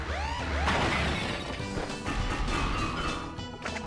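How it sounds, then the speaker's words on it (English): Crystals crashing and shattering in Crash Bandicoot 3, a string of loud smashing impacts over sweeping game sound effects and music, continuing steadily with several sharp crunchy hits. "that sound design with the crystals crashing down"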